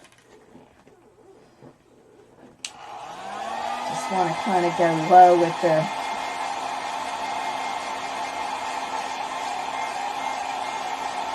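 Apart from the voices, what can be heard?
hair dryer drying acrylic paint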